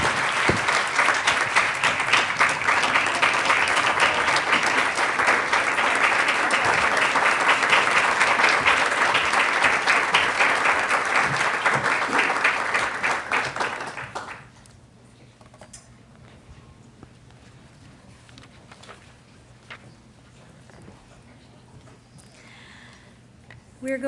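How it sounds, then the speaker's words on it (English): Audience applause at a Pride month event hosted by the US Secretary of State: loud, sustained clapping from a large crowd lasting about fourteen seconds, then cutting off to quiet room tone. "Please give her a round of applause."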